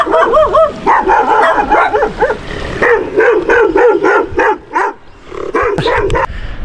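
Dogs bark repeatedly in quick, overlapping bursts, loud and close, with a few higher yips mixed in and no talking, near Lima, Peru.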